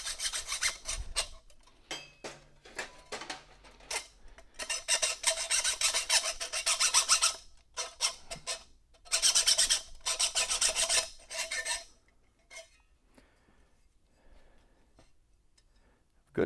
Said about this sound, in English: I'm going to put this in the vise and just get the rest with the hacksaw.